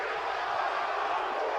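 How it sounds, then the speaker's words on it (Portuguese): A Brazilian football stadium crowd at a Ponte Preta versus Criciúma Série B match roars in protest against the refereeing, a steady dense wash of massed voices with no gaps. "A torcida se inflama. É um ato de protesto contra essa arbitragem horripilante do futebol brasileiro."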